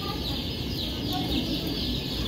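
Young chicks about ten days old fill a brooder with steady, dense peeping and soft clucking, a continuous close chorus with faint voices behind.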